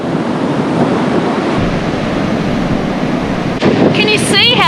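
Large waves break along a rough stretch of coast near Noosa, a continuous loud wash of surf mixed with gusty wind noise on the microphone. A voice begins talking over it just before the end.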